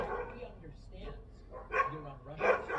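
An Akita dog barks in a few loud bursts near the mic, with background noise and some voice-like sounds mixed in between the barks.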